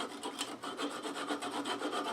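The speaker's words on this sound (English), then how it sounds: "This flush cut saw comes in very handy." A flush cut saw cuts through wood on a twig pot turning, giving quick rhythmic rasping strokes, about a dozen back-and-forth passes, close and fairly quiet with no voices.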